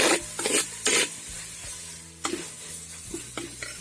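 Tomato and tamarind sizzling in a pan with fried onions for a Mangalorean Marwai Pundi masala, steady close frying hiss broken by several sharp scraping stirs, no voices.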